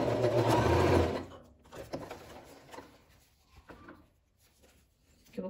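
A sewing machine stitches a zipper onto synthetic fabric in a short, steady burst up close, then stops, leaving faint handling clicks and fabric rustles.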